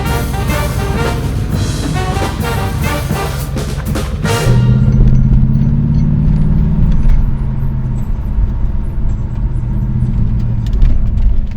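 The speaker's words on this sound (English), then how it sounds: "it's idling great" A rebuilt sedan's engine idles steadily up close, a low even hum that follows a louder burst of mechanical noise at the start, with no talking.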